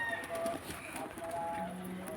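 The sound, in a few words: pigeons cooing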